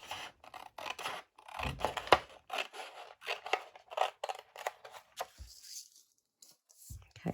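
Scissors cut through a 12x12 sheet of craft paper for a mini folio folder, producing a close series of crisp snips and papery rustles in uneven bursts, with a faint voice at times.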